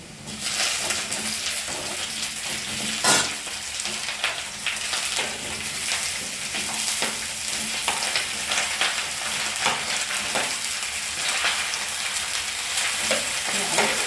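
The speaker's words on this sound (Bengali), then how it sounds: "এবার বেগুনটা কিছুক্ষণ ভেজে নেব।" Eggplant pieces frying in oil in a pan after potatoes for a Bengali begun aloo torkari, a steady loud sizzle with occasional stirring scrapes, close and continuous without talk.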